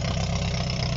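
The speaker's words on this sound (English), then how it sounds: "That's a fast start idle." An Opel Corsa B GSI engine idles at a fast start idle, a loud, close, steady low rumble with a regular pulsing beat and no speech over it.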